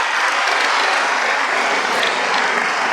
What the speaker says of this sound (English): how about another round of applause for everybody tonight?